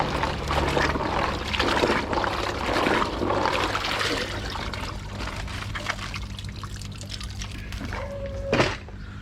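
Oyster shells get a quick rinse at a koi pond filter, with water pouring and trickling steadily over them up close for several seconds, ending in a brief splash.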